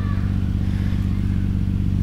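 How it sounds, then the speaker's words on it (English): A 1994 Nissan Skyline GT-R R32 with an aftermarket exhaust idles nearby, giving a steady, loud, deep burbling drone with a rapid low pulse and no change in revs. "Okay, aftermarket exhaust, that sounds pretty awesome."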